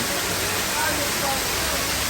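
Waterfall flowing in a garden, a dense steady rushing hiss of falling water, close and even throughout with no breaks.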